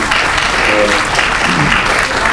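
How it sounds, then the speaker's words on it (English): Audience applause at a congressional primary candidate forum: a steady, full clatter of many hands clapping that holds at even loudness throughout, with no talk over it. "I'll remind the audience that we're refraining from applause during the course of the debate."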